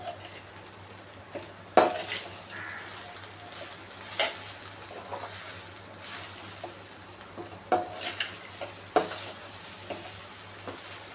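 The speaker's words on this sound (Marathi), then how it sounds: "भाजलेलं पनीर टाकते. आता हे आपल्याला परतून घ्यायचंय चांगलं." Roasted paneer being stir-fried for fried rice in a pan, a low sizzle under irregular clanks and scrapes of a spatula against the metal, with a few sharper knocks and no voices.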